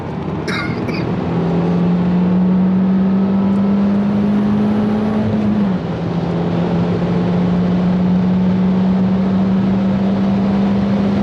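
Peugeot 208 GTI racing on track at Donington Park on road tyres, its engine droning loud and steady close by, pitch holding high then dipping briefly at a gear change before climbing again.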